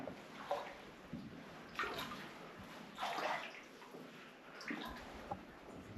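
Water sloshes and splashes as people wade through a flooded, narrow tunnel in an old Black Hills silver mine, with irregular swishing steps, fairly faint and echoey.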